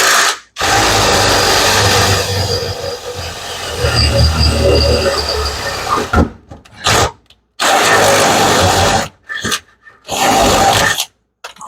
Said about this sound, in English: I don't know what I just drilled into.